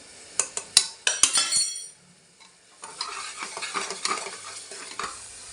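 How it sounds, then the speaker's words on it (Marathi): Chole masala sautéed in oil: a burst of sharp metallic spoon clinks and stirring scrapes against the pan, then a pause, followed by a softer, continuous sizzle with light stirring, close up and without speech. "मसाला छान असा परतलेला आहे त्याला तेलही सुटलेलं आहे"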